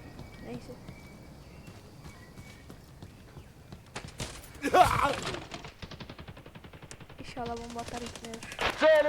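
Rapid bursts of gunfire in the shooter video game Hired Ops, with clustered automatic fire and scattered single shots, mixed with other game sounds while players talk throughout.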